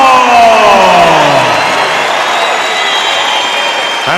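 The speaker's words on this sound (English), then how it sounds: "And listen to that crowd reaction." A boxing arena crowd roars after the decision in Karriss Artingstall's win over Marina Sakharov, a loud and steady wall of cheering with some whistling that holds for about four seconds.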